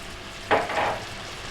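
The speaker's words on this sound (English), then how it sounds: "I'll be basting the fish and moving the garlic." Fish fillet frying in garlic lemon butter with lemon juice on a stovetop while being basted. A single short swell of sizzling rises above the low pan hiss and then settles.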